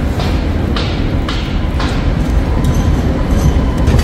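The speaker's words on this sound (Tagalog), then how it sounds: "Tignan nyo yung train dito, ang ganda." A train rolling past at Sydney Harbour: a steady, loud, close rumble with faint rhythmic clicks running the whole time.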